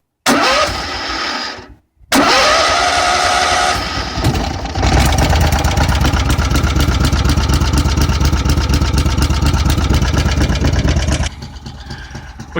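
An old engine with its choke on fires on a cold start: brief cranking, a short cutout, then it catches and settles into a loud, steady, fast idle close by, dropping to a quieter run at the end.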